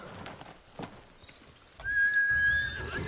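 A horse in the video game Ghost of Tsushima lets out a loud, drawn-out whinny after a few hoof clops and rustles, the neigh sustained and close through the final second.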